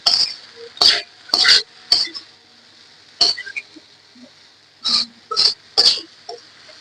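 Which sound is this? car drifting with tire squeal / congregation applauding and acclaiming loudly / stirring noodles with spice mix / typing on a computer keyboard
stirring noodles with spice mix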